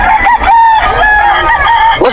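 A stag rooster crows loudly and close by at a pet market, one long drawn-out crow with clucking around it.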